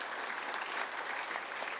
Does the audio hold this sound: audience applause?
yes